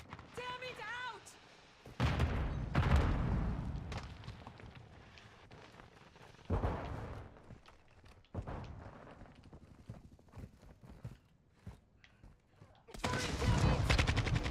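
Bursts of gunfire in Call of Duty Modern Warfare II Warzone 2 on Xbox: loud volleys arrive in clusters around the start, middle and end, with quieter scattered shots, footstep-like clatter and a voice between them.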